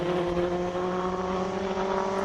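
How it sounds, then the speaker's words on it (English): A classic March 77B race car screams up a hillclimb course, a loud, steady high-pitched engine note holding strong and close for about two seconds with no talk. "He's in a March 77B, picking up some dirt on the track limits there."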